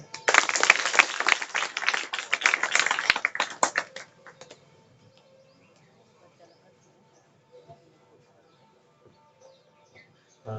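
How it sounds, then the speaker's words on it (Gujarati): Audience at a gathering clapping, a dense burst of applause for about four seconds that fades out, followed by near silence with a few faint stray sounds. "પાળો તાળીઓ"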